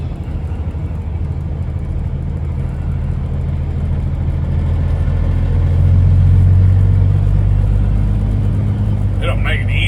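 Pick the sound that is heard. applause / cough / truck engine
truck engine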